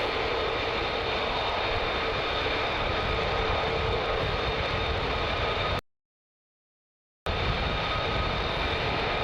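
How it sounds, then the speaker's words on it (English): F-35 fighter jets at RAF Lakenheath roar continuously during night flying, a broad, steady engine rumble that cuts out briefly and then resumes. "The F-35s are ready to go."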